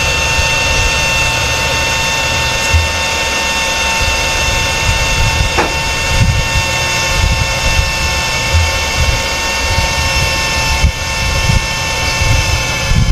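A repaired cooling fan in an old-model 86000W inverter, fixed with a replacement SMD MOSFET, runs loudly and steadily. It gives a constant close whirring drone with a thin tonal hum on top and only small fluctuations.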